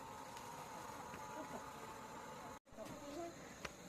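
Honeybees buzzing around a newly moved hive, a steady, faint drone of many wings heard close and continuously, broken by a brief dropout, with soft voices in the background.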